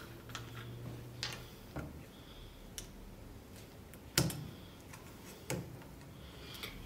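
A rubbing alcohol (isopropyl) bottle lid is worked open at close range, with scattered small plastic clicks and ticks, a sharper snap near the end, and no voices.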